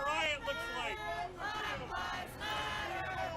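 A protest crowd at a street riot shouts and chants in loud, overlapping bursts of many voices, rising and falling in waves, with a brief dip between surges.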